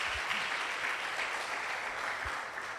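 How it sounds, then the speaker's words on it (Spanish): A church congregation gives a steady round of applause to the Lord, an even, moderately distant clapping texture with a couple of faint low thumps beneath it. "Dale ese aplauso al Señor."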